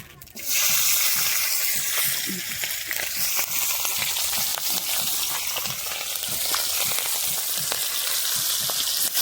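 Nigella seeds and green chilli drop into hot oil with a sudden loud sizzle that settles into a steady crackling hiss.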